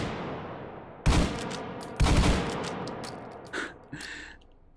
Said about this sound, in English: I'm just pumping with this hand, just like a shotgun, a pump action shotgun